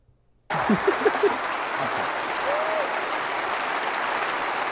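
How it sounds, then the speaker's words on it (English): An audience stands and cheers, broad steady applause and crowd noise swelling in suddenly after a moment of silence and holding loud and even, with a few brief whoops near the start. "You standing up and cheering this fucking guff."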